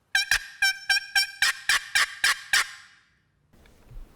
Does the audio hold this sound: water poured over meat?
no